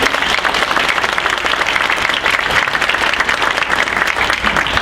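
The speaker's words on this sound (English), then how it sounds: "So I want to give you a big hand of applause." Loud, sustained audience applause at a school governing board meeting, dense clapping close up and continuous from start to finish.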